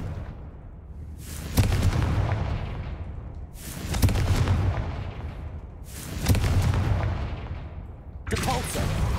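Four booming blasts from the Confringo explosion spell in the Hogwarts Legacy video game land at even intervals, each one a loud burst that fades slowly before the next.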